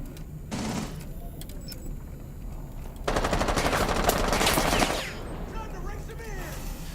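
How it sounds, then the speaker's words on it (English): Gunfire in the tactical shooter Rainbow Six Siege during an esports match, scattered shots early, then a dense sustained burst of automatic fire for about two seconds, with a caster's voice heard in the background. "Some more shots going out"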